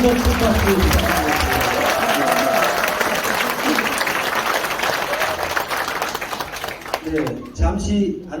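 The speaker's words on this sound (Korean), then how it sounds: "다시 한번 큰 박수 부탁드립니다." An audience at a book talk in a packed concert hall claps steadily for several seconds, a dense wash of applause that tapers off at the end, with voices briefly audible.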